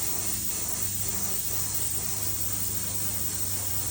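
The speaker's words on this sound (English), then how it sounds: "paint it on the bottom, spray the bottom a little bit, just a little up into that white" An airbrush sprays paint onto a fishing lure, giving a steady, faint, unbroken hiss with a low background hum and no talking.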